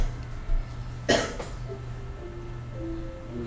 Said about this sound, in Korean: 기침 때문에 못 들었어요.